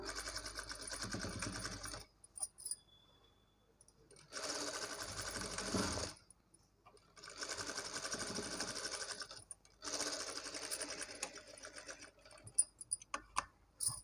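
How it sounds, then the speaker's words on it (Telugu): A sewing machine runs double stitches on a blouse back neck, its needle chattering in steady rapid bursts of a few seconds each, separated by short pauses with light clicks and handling noises. "నేను ప్రతి ఒక్క దగ్గర అలానే డబల్ స్టిచ్ అయితే వేస్తున్నాను"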